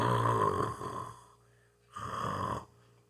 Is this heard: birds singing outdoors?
no